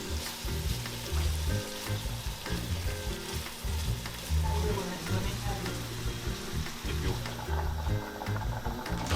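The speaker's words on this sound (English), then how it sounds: "She scoops the soffritto into a sauté pan, adding a generous glug of olive oil." Soffritto fries in a generous glug of olive oil in a sauté pan, giving a steady, loud, dense sizzle that runs unbroken throughout with faint stirring and scraping mixed in.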